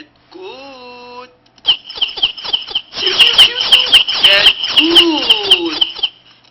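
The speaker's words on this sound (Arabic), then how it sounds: "صوت كتكوت" A farm chick peeps shrilly in a brief call, pauses, then breaks into a rapid run of high, insistent chirps that tumble over one another, loud and close for several seconds.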